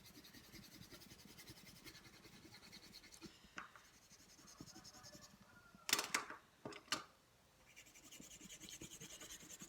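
A pen colours in shapes on paper while making cut-paper flowers: close, continuous scratchy strokes rub back and forth, with a few louder, sharper scrapes partway through.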